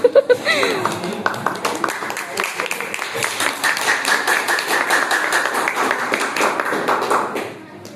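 A small group claps in quick, uneven bursts with a few cheers and chuckles mixed in, fading out near the end.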